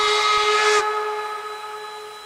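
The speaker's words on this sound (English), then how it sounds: "And of course, here is the first whistle version." A steam whistle from a K&L Norfolk and Western steam locomotive in the Trainz simulator gives one sustained, loud, hissing blast that cuts off abruptly, leaving a steady tonal ring that slowly fades.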